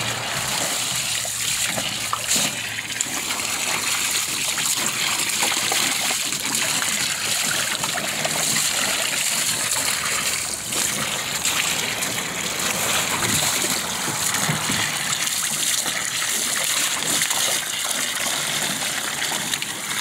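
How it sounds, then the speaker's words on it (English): Water gushes and splashes steadily into an outdoor pool for bulls, a loud continuous pouring that runs unbroken for the full stretch with no voices over it. "I'm out here with the bulls, putting some water in the pool for them."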